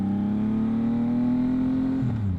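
A Yamaha MT-09 motorcycle accelerating on a commute, its engine note loud and close, climbing smoothly and steadily through the revs, then dropping abruptly in pitch near the end as it shifts or lets off.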